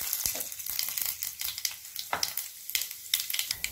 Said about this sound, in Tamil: கடுகும் கடலப்பருப்பும் நல்லா இதாகிடுச்சுங்க, பொரிஞ்சிருந்துருச்சு.